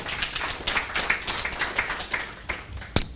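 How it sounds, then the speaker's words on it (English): Audience applause after a panel session at a higher learning institutions event, a steady patter of many hands clapping at moderate loudness for a few seconds, ending with a single sharp louder clap. "Give them a hand of applause as well."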